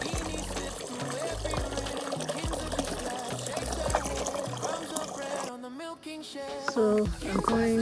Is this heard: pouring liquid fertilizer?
yes